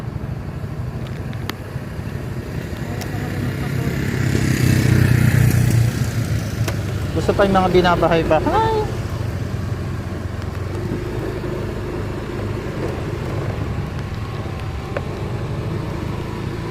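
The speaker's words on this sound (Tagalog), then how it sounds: "Ito yung una kong motor, Mio." A Yamaha Mio scooter engine drones steadily while riding along a barangay road, a continuous close motor hum with a brief swell, a short spoken phrase partway through.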